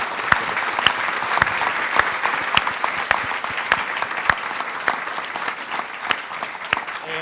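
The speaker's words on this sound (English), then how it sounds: "A round of applause." Sustained applause from a sizeable public lecture audience, dense steady clapping with sharp individual claps standing out, no talking over it.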